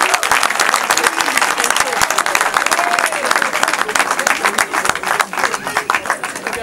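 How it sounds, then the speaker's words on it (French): Loud, dense applause from a crowd greeting a church choir at a single launch event, sustained throughout with voices talking over it. "Ça s'applaudit l'église."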